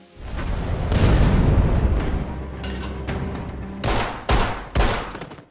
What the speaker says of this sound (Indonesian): Namun dengan beberapa granat yang dia bawa, Rai berhasil meluluh lantakkan pasukan tersebut sampai benar-benar tak berdaya